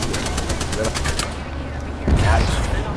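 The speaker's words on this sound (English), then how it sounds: "they're trying to shoot us down" Rapid automatic gunfire in Apex Legends, a steady volley of shots for about a second before it thins out, with game noise and louder thuds continuing underneath.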